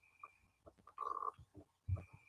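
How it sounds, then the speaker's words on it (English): Frogs croak outdoors at night in short, uneven bursts, with a faint steady cricket chirp running underneath; the calls are fairly quiet and come from a moderate distance. "the frogs and crickets are loud tonight"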